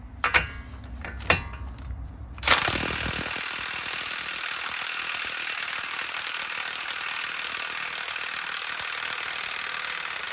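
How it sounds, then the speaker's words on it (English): A ratchet with a 32mm socket breaks loose the front axle nut on a Mazda CX-5 during a wheel bearing job, giving a couple of sharp clicks, then a loud, sustained mechanical chatter close by. "I'm going to go ahead and take off the axle nut. It's a 32mm socket."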